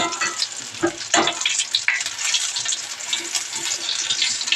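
Chili bajji frying in a shallow layer of oil, with a continuous bright sizzle and crackle and a few sharper pops early on, close and fairly loud, without speech.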